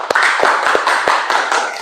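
A classroom of students applauds a discussion group, a brief burst of sharp claps close by with a few distinct louder hand strikes standing out.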